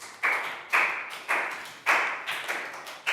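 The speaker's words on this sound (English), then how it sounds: "Big round of applause for Chew." A class claps for a student, heard as six distinct bursts of hand claps at a steady rhythm, each sharp at onset and trailing off, close and fairly loud, with no voices.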